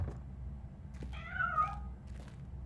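A single cat meow in the video game RoboCop: Rogue City, a short wavering cry at moderate distance over a low, rumbling game ambience.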